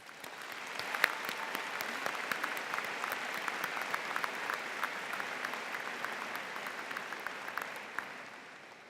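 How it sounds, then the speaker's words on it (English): Graduation ceremony audience applauding, a dense, sustained patter of many hands clapping for about nine seconds, steady throughout before tapering slightly at the end, with no talk over it. "Let's have a round of applause for all the people who have supported us over the past 4 years."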